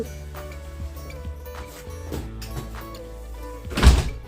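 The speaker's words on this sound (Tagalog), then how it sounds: "Sarado mo yung pinto." A house door is pushed shut with a dull thunk near the end, after a few faint knocks and shuffles in a quiet room.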